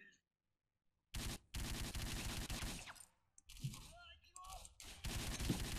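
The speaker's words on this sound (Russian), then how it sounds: "Хватит стрелять, чуваки." Gunfire in S.T.A.L.K.E.R.: Call of Pripyat, with long bursts of rapid automatic shots separated by short pauses, loud and dense, while players talk and call out.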